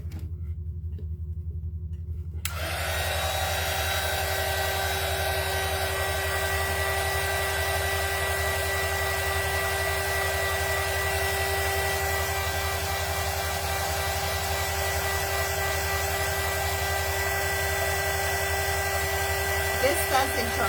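A hair dryer starts after a short quiet moment and then runs at a steady, close, loud whir while drying a craft snowman made from a lightbulb.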